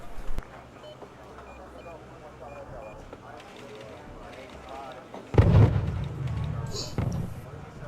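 Artillery fire in the Wargame: European Escalation battle game, a sudden heavy boom about two-thirds through with a rumbling tail, after a stretch of quieter low battlefield hum and faint beeps.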